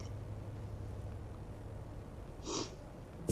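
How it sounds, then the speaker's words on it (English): A single short nasal sniff or snort partway through, standing out over a quiet, steady low hum of room noise. "So sorry if you just hear me sniffling on the stream."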